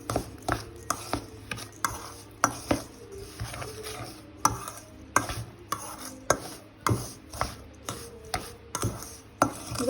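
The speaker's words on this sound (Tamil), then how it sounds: "இப்போ இதுக்குள்ள நாங்கள் கொஞ்சமாக நெய் வந்து ஊற்றிக்கொள்ள போகிறோம். வடிவாக கலந்து கொள்ளுவோம்." Sesame laddu mixture being mixed with a little ghee, giving a steady run of sharp scraping and clacking strokes against a bowl, close and fairly loud, repeating about every half second with no talk.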